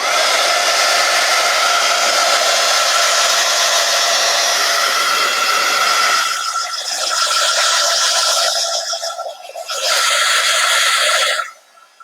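Hair dryer blowing steadily on wet paint in a mixed media art session, a loud continuous whoosh for about six seconds, then dipping and wavering as the dryer moves before cutting off at the end.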